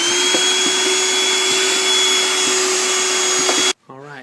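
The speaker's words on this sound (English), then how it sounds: "go ahead and vacuum this side," A vacuum cleaner runs steadily and loudly while cleaning out the air filter housing of a BMW E65, with a constant motor whine and a few knocks as the nozzle hits the housing, then cuts off abruptly and a voice speaks.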